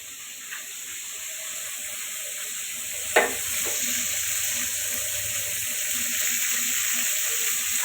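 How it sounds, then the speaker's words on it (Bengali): Spices sautéing in hot oil for a chicken curry, a steady close sizzle and hiss with a short clink partway through and faint stirring under it. "ওই পাশে চুলে তেল দিয়ে এখন আমি মশলাগুলো দিব, কষাবো।"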